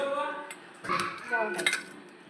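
Boiled, peeled potatoes being mashed in a bowl for potato paratha, with scattered clinks and scraping of a utensil against the bowl, moderately quiet and close.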